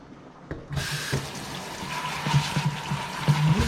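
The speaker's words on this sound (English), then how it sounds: "Go ahead and rinse my sink out." Water running into a kitchen sink during rinsing, a steady rushing stream with scattered knocks and clatter from dishes or the basin.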